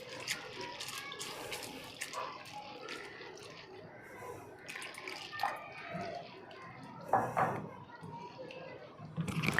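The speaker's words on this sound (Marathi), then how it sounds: "तो आपण आता स्वच्छ पाण्याने 2-3 वेळा धुवून घेऊया" Water sloshes and splashes as sago pearls are rinsed in a bowl of clean water, with brief clinks and soft background voices.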